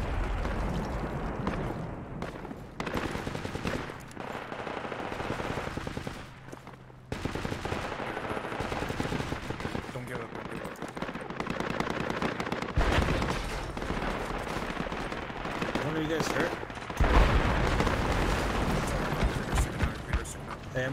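Sustained machine gun fire in the Project Reality military shooter, with repeated bursts of rapid shots running almost continuously through a noisy battle, broken by a short lull, while players talk over the shooting.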